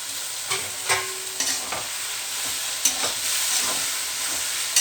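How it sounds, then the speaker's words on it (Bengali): Spices with ginger paste and garlic paste fry in a pan with a steady broadband sizzle, punctuated by several sharp scraping stir strokes from a spoon; no one speaks. "এবার মশলাগুলো একটু ভাজা ভাজা হবে"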